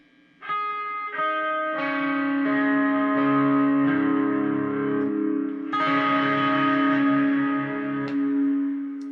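Electric guitar part from a song, barred shapes fretted with pinky and ring finger, heavy with delay, reverb and distortion; several strummed chords swell and sustain in a wash of echo, loud and alone.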